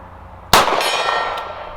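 One sharp metallic clang as a steel gong is struck by a 9mm round from a Ruger LCR revolver at 50 yards, ringing bright and sustained after the hit with no voices.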